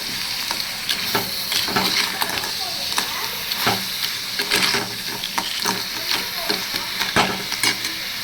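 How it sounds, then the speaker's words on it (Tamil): Cleaned crab sizzles steadily in a hot pan, with repeated scrapes and clinks of a spatula stirring it throughout. "அடுத்து நம்ம க்ளீன் பண்ணி வச்சுருக்க நண்டை ஆட் பண்ணிப்போம். அப்படியே அப்படி கரட்டி விட்டுப்போம்."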